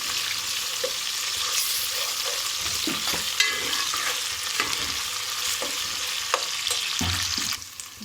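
Ginger garlic paste and curry leaves frying in oil, a continuous close sizzle with scattered spoon scrapes and stirring knocks, no talking.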